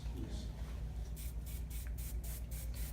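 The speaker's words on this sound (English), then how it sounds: "even just spraying hairspray is very important" Hairspray is sprayed onto hair in a run of about five quick, close hissing bursts in the second half, after a quieter start.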